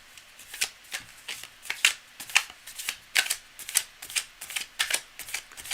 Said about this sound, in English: I'm shuffling up.